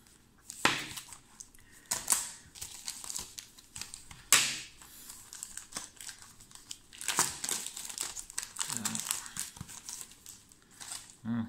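Coin parcel being unwrapped by hand, its packaging crinkling and crackling in close, uneven bursts with sharp rustles and tearing sounds across the clip, with speech at times.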